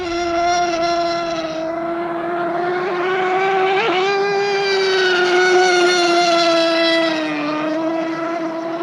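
Nitro RC hydroplane boat engine running too lean, a loud, continuous high-pitched buzzing whine that wavers slightly in pitch for several seconds, close and steady with no talking.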